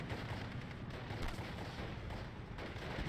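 Sherman tank gunfire against a half-track in the Steel Division: Normandy 44 WWII game, a dense, continuous barrage of booms and battlefield rumble with no single clear shot standing out.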